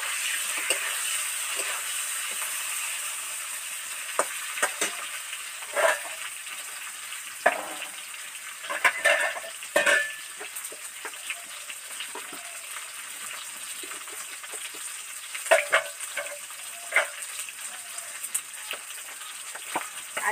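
Pieces of fried katla fish reheat in a little oil in a wok, giving a steady, close frying sizzle and hiss with scattered crackles and soft clinks throughout.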